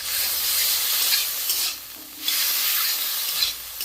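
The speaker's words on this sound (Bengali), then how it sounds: "আমি এখন নেড়ে দেবো।" Fig curry fries in a pan with onion, garlic, cumin and chili pastes while being stirred, a steady close sizzle with scraping strokes that briefly drop off twice before resuming.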